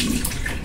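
Warm water splashes as an alum face mask is rinsed off the face, a brief, close, continuous wash of running water with no talking.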